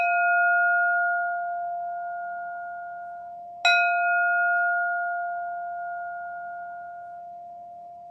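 A meditation bell is struck twice, each a clear sustained tone ringing and slowly fading, the second strike landing midway and decaying alone in near silence.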